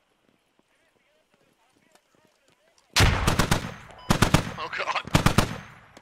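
Loud bursts of automatic gunfire in the tactical shooter Squad, a Taliban raid in close quarters, erupting after a quiet stretch of faint ambience and hammering in repeated rapid volleys close by; a voice speaks briefly.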